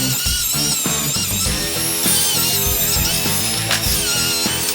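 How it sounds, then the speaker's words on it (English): A track saw cuts a board of sawmill lumber with a steady, loud, whining buzz that stays close and continuous, its load shifting a little as it moves through the wood. "A little track saw on there."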